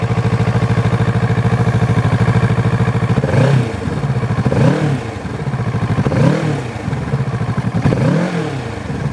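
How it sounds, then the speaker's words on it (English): A 2017 Kawasaki Z650 motorcycle engine sits at a steady, loud idle, then blips through several throttle revs that rise and fall in rhythm, close to the mic with no talk. "we're going to go ahead and push the starter button here and crank it up"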